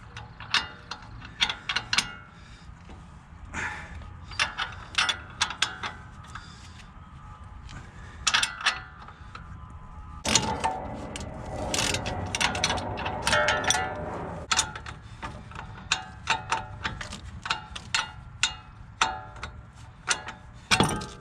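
Ratchet tightening a ball joint nut on a 2016 RAM 1500 4x4 leveling strut, with bursts of fast clicking and metallic ticks, separated by pauses and occasional clanks, close up with no talking.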